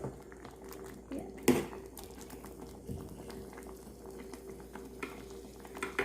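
Potatoes with a little salt still cooking on a Korean electric griller after it has been switched off and unplugged, a soft steady bubbling and sizzle with occasional sharp clinks of a utensil, no one speaking.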